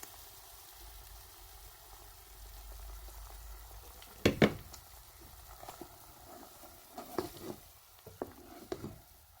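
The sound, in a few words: garlic, pepper and tomato mixture cooking in pot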